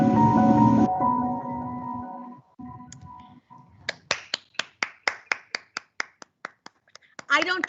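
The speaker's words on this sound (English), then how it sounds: "I am applauding." A lone participant in an online board meeting clapping into the call: about a dozen sharp, evenly spaced claps, close and crisp, following a sustained voiced tone and a few quiet seconds.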